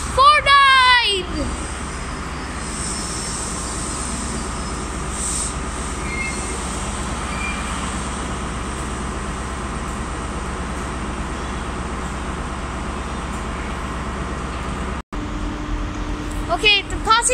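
A passenger train passes through Stirling station, a loud sustained rumble of wheels and engine with screeching wheel squeals at the start and end, heard close up and steady throughout.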